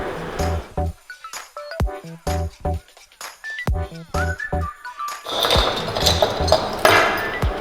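Anchors hammered in by hand while rigging an electric hoist setup: a series of sharp, loud metallic strikes in irregular bursts, close by, followed by a scraping, clattering stretch of handling noise.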